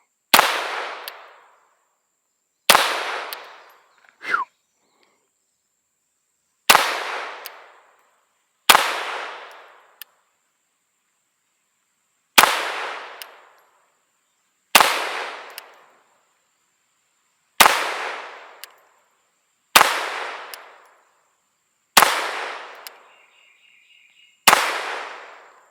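Ten sharp, fairly loud shots from a Ruger 22/45 Lite pistol, fired at a steady unhurried pace across a full magazine, each a crisp crack with a quick fading tail and no voices.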